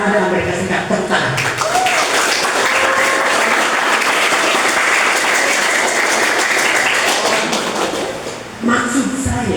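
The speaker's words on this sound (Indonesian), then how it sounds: "Tepuk tangan." A school audience at a reading-campaign event at a vocational high school in Pandeglang, Banten, breaks into dense, sustained applause for several seconds, close and loud, before it fades and a voice returns.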